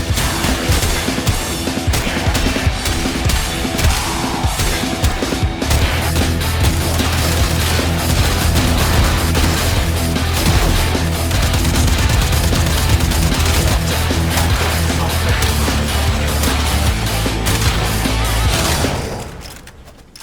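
Shotguns fire in the video game Warframe as a dense, nonstop barrage of loud blasts and crashing impacts over a low droning backdrop, fading out at the very end.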